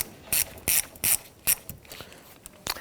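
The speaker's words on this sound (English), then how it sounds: "We'll use a 10mm socket, our extension and ratchet, to go ahead and loosen the 10mm" A ratchet with an extension and 10mm socket clicks in short bursts, about five quick strokes in close succession, as it loosens a 10mm nut on a 2011-2015 Kia Sorento.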